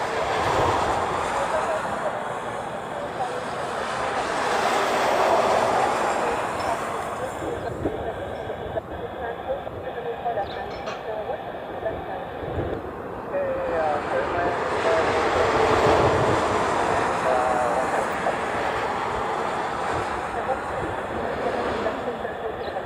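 A Boeing 787 Dreamliner jet airliner passes, a steady broad engine roar that swells twice over about twenty seconds, moderately loud with no break.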